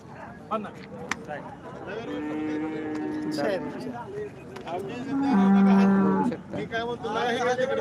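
Cows at the Sangola cattle market give two long, drawn-out moos, one after the other, close by and loud, with people talking and market bustle continuing around them.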